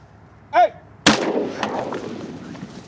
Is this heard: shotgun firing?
yes